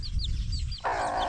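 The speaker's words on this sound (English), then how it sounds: "That's my sister's hen right here" A hen with two chicks: high thin chirps repeat over a low clucking murmur, close by, with a louder steady burst of sound joining near the end.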